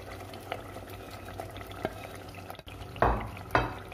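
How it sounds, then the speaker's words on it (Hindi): Ground spinach paste being added to tomatoes cooking in a pan for palak paneer, a quiet sizzle and soft bubbling with a few stirring scrapes and two louder wet splats near the end. "अब मैं इसमें ऐड कर रही हूँ पालक,"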